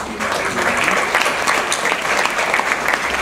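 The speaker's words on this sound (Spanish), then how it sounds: "Con un fuerte aplauso recibimos la participación de Percy" An audience at a tax conference gives a strong round of applause to welcome a speaker, steady close clapping filling the whole moment.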